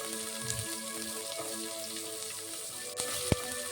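Green chilli, whole spices and roughly chopped onion sizzle in hot oil in a pan, a soft continuous crackle with a couple of sharper pops near the end and no talking.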